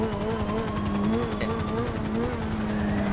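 An aircraft in the video game GTA 5 whirs past with a steady rotor-like chop and engine drone, while a voice talks quietly over it.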